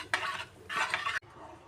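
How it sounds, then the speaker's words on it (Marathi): A utensil stirs yogurt and besan kadhi in a pot as it comes to a boil, giving two soft scraping, swishing passes separated by a short pause, then a quieter bubbling background. "ते ढवळत राहा, अगदी उकळ येईपर्यंत ढवळा"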